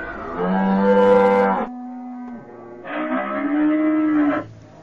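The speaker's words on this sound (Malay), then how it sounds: "Kita lihat haiwan yang terakhir iaitu lembu." A cow moos twice, two long loud lowing calls close by with a brief quiet gap between them, no talking.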